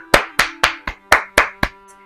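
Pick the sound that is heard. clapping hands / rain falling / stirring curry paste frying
clapping hands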